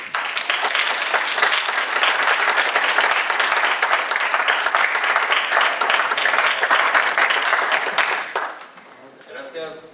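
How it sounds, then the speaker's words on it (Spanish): A strong round of welcoming applause from the audience at a civil engineering week lecture on drinking water distribution in Tijuana, dense steady clapping for about eight seconds before it stops and a voice starts talking. "Démosle un fuerte aplauso de bienvenida."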